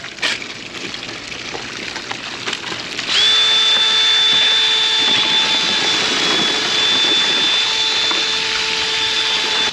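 A power drill whirs steadily and loudly in a bucket of water and gold-bearing material, a high constant whine with a harsh churning edge, after some quieter rustling at the start.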